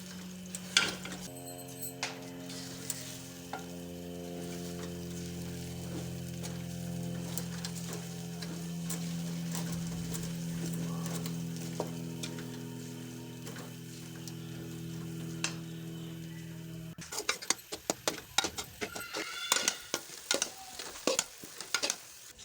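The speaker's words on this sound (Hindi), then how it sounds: "तकरीबन 20 मिनट तक के लिए हम इसमें जो है चम्मच वो चलाएंगे।" A spoon stirs semolina halwa made with milk while it fries in a pan. The steady sizzle and scraping run for most of the clip, and a burst of sharper clinks and scrapes comes near the end.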